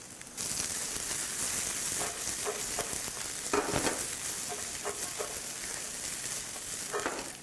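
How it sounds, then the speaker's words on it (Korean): Boiled peanuts and Chinese artichoke tubers are stir-fried in a pan, a steady close sizzle punctuated by several scraping, clattering stirs. "삶은 땅콩, 삶은 초석잠을 갖다가 넣고요. 네, 충분히 볶아줍니다"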